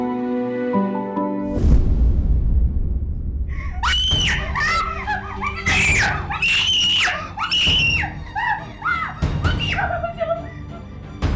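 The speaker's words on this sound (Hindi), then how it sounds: "भाई वो भाभी की चिल्लाने की वजह से।" A woman lets out repeated, piercing screams after seeing a lizard in a house, in several shrill bursts over about seven seconds, preceded by a musical sting and followed by brief talking.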